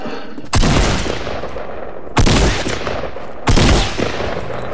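Three loud, sharp bursts of gunfire from the video game Fortnite, evenly spaced about a second and a half apart, each with a short ringing tail and no talking.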